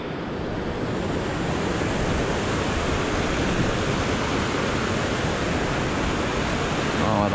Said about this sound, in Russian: Да, в долине очень много водопадов вот таких больших.